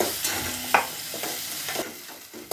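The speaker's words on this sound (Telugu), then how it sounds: "మిక్సీ పట్టుకున్నాం కదా ఇందాడ కందిపప్పు, టమాటా వేస్తున్నాం రసంలోకి" Ground lentil and tomato paste goes into a pot of rasam, with a steady sizzling hiss and soft stirring and scraping scattered through the short stretch, close by and with no talk.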